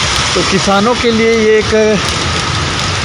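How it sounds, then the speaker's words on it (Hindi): Heavy rain pours down on ripe farm crops, a steady broadband hiss that runs throughout beneath someone speaking loudly over it. "खबर है कि बारिश शुरू हो चुकी है"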